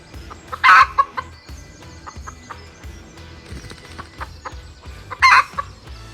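A pheasant hen and cock call outdoors, two loud harsh bursts near the start and end, separated by quieter rustling and scattered clicks.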